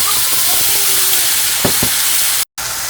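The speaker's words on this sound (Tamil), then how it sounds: "இந்த அரைச்சி வச்சதை நம்ம இதில் ஊற்றிடலாங்க" Ground tomato paste hits hot oil with popped mustard seeds and white lentils in a pressure cooker, giving a steady close sizzle and frying hiss with a couple of sharp spits, then a brief cut to silence.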